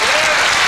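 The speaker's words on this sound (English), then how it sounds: "the crowd gives him a very warm reception for that victory" An audience at the 1995 World 8-Ball Championship breaks into dense, loud applause for a pool player's win, a brief steady wash of clapping close up.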